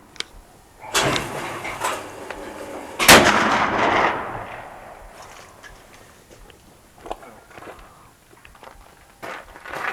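A shotgun fires at a clay target during a hunting licence exam outdoors, one loud sharp blast with a ringing tail, followed by fainter handling clicks and rustle.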